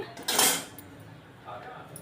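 Cutlery and dishes clink as a freshly cooked urad dal talimpu roti is moved onto a plate, one sharp clatter up close followed by a softer scrape a moment later, otherwise quiet.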